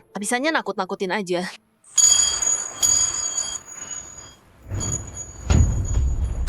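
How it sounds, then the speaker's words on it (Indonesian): A bell hung on a lakeside net rings with a bright metallic chime and a sustained ringing tone, following a brief spoken line and mixed with clattering noise. "loncengnya bunyi"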